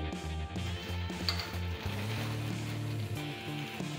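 Oil sizzles steadily as thalipeeth flatbread fries on a hot griddle over a medium gas flame, with a low tonal hum running beneath the crackle.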